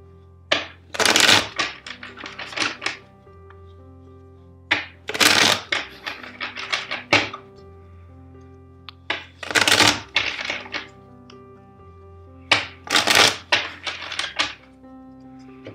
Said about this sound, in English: let's shuffle four times